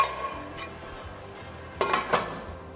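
A metal lid is set onto a cooking pot of chicken and tomatoes, giving two short clanks near the end after quieter bumps, with a soft kitchen background.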